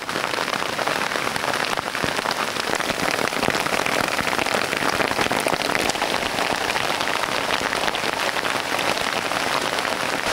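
Steady rain pours down outdoors, a dense, even hiss of drops striking surfaces, continuous and fairly loud with no voices or thunder.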